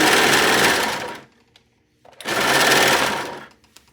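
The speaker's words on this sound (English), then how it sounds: "Now, I do run my serger where you can leave a little tail." A serger overlock sewing machine runs in two fast, buzzing bursts close by, broken by a second of near silence.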